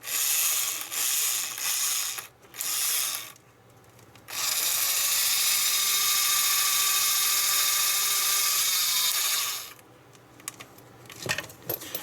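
Gears inside a Playmates Star Trek USS Voyager toy grind and ratchet in loud, harsh bursts, with short pauses and then a long steady whirring run before stopping, followed by a few faint clicks.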